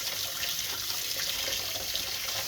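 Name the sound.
hot water running from a tap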